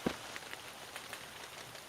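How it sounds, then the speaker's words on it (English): Rain falls in a space exploration video game, a soft, steady patter of drops on surfaces with a single sharper tap at the start and no voices. "You should hear rain."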